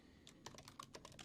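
Fingers type on a computer keyboard, tapping a quick, irregular run of soft clicks close by with no talking.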